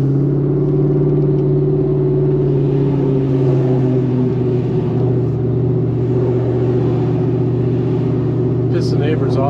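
Pontiac GTO with jumpy brakes and crisp shifting, driven around the block: a steady low engine drone with a strong humming tone heard from inside the car, holding even throughout while a person talks.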